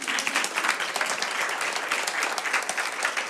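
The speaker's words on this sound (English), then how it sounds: "Applaud again." An audience at a women-in-entrepreneurship event applauds again, giving a close, even burst of many hands clapping throughout with no break.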